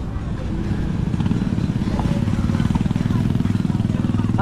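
A motorcycle engine drones steadily nearby on a Philippine roadside, its rough puttering rhythm growing slightly louder over several seconds.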